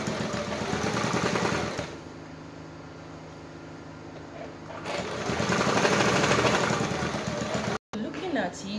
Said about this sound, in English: So you sew like 1/8 of an inch close to the initial seam.